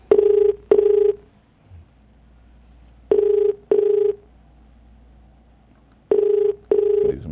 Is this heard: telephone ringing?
yes